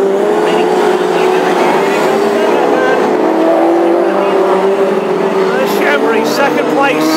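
Classic hot rod race cars, including a 2-litre car, roar through turns one and two at Birmingham, engine tones rising and falling continuously and loud beneath a commentator's steady talk.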